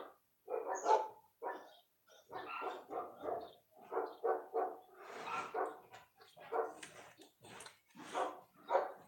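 A dog barks again and again in an irregular run of sharp, close barks with some yips and whimpers mixed in, loud against a quiet background.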